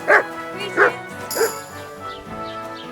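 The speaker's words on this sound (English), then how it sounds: "Why are you barking?" A dog barks three times up close in sharp, evenly spaced yaps, then whines faintly while an electronic tone rings in the background.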